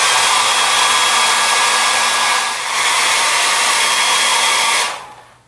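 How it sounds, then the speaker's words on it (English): A hair dryer blows on a freshly painted canvas, a loud steady roaring rush close by that dips briefly midway and then cuts off, whining down near the end. "I just blow dry this."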